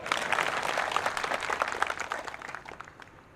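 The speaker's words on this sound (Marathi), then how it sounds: "पहिल्यांदा टाळ्या वाजवा" A crowd claps with dense, sustained applause at a Shiv Sena workers' rally in Khalapur taluka. The clapping starts loud and trails off toward the end.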